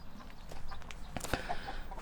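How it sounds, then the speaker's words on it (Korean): Chickens kept at a countryside house in Chungju, with a few soft, faint clucks over a low outdoor background. "닭 키워서 여기서 이제 계란도 먹고 그래서 여기 닭도 몇 마리 한쪽에다 키우고 계시고요"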